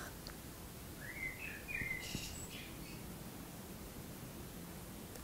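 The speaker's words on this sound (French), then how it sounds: "On entend les petits oiseaux qui chantent dehors." Small birds sing outdoors, faint and distant, with a few brief chirps and twittering phrases over a steady soft background hiss in a quiet setting.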